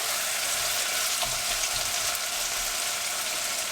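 Onions fry in a pan for a chickpea curry, giving a steady hiss of sizzling oil with soft scraping as they are stirred, close and continuous, no voices.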